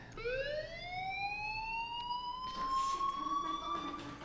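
A rising electronic alarm tone sweeps upward and holds in the video game Life is Strange, loud and steady with harmonics, joined by a brief burst of noisy clatter midway.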